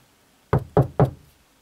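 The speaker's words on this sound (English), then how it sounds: "You want to bring it close and we'll knock on it" Three firm knocks on a solid wall, evenly spaced and close by, in an otherwise quiet space.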